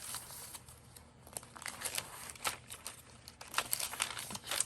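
A glassine paper bag crinkles and rustles as it is handled during a flip-through of an altered journal, giving a steady stream of soft, close crackles with sharper bursts and no voices.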